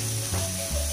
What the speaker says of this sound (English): Now I'm going to add 3 sliced green chilies, and along with that, a bunch of curry leaves.